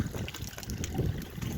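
Water from a hose splashes and trickles over an Ursus C330 tractor during washing, a close, steady irregular spatter with no talk.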